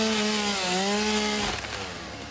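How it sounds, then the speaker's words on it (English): A chainsaw in the factory-building game Satisfactory chews through wood, a loud close engine whine that dips in pitch under load, then breaks into rougher cutting noise as the blade passes through. "Ah yes, the relaxing sounds of chainsaw."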